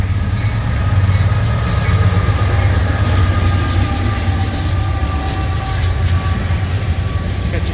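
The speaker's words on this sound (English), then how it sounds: "Norfolk Southern ethanol train." A Norfolk Southern ethanol unit train rolls past nearby, a loud steady rumble of tank cars with rail clatter and faint wheel squeal, continuous throughout with no talking.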